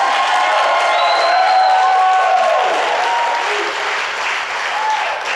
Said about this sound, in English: can we give God one last great thunderous clap?